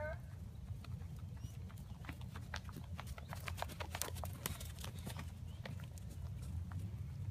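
A horse cantering on the ground during a groundwork lesson, hooves clip-clopping in a steady repeated rhythm over a constant low rumble, with a trainer's voice speaking at times.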